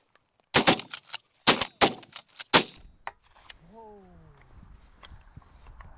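Shotguns fire at ducks during a foggy-morning waterfowl hunt in western Manitoba, a rapid cluster of sharp, loud blasts over about two seconds, followed by a trailing call and faint background sounds.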